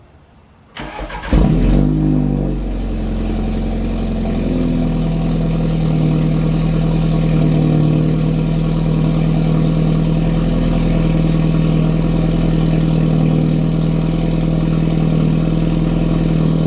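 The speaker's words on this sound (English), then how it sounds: "I'm gonna give you like a little cold start." A BMW G20 sedan cold-starting at home after sitting unused: a brief starter crank, then the engine catches with a loud surge before settling into a steady, high, droning fast idle that continues close by with no voices.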